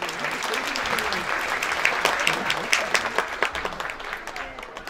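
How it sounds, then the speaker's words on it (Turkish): An audience applauds at a kindergarten year-end ceremony for 5-6-year-olds. The sustained clapping grows and stays dense, with sharp individual claps standing out, and speech can be heard faintly underneath. "sizlerden de ayrıca bir alkış rica ediyorum"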